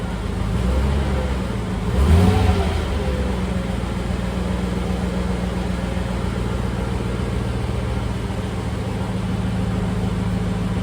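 A Land Rover 90 engine running steadily with a brief rev near the start, then settling into an even, continuous idle hum close by.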